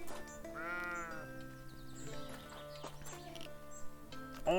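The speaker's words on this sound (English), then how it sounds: "We can pet the sheep." Sheep bleat in the video game Scarlet Deer Inn, a single wavering call early on, fairly close, over a steady backdrop of game music and ambience.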